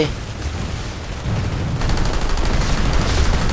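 Dense, continuous gunfire and explosions from a PlanetSide 2 battle, sustained and loud throughout with a heavier burst midway and no pauses.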